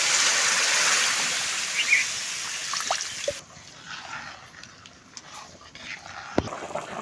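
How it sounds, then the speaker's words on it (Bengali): Broth poured into a curry of mutton leg: a steady, fairly loud rushing pour lasting about three seconds, then dropping to a softer bubbling hiss with a few small knocks. "মাংসতে ঝোল দিয়ে দেবো।"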